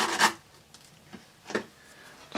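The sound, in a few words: sharpening a purple colour pencil tip on sandpaper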